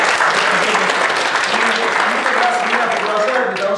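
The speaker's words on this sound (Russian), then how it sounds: "Давайте аплодисменты их семье." Steady, loud applause from a crowd clapping continuously throughout, with a voice faintly audible underneath.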